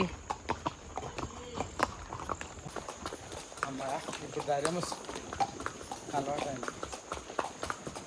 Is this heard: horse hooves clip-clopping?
yes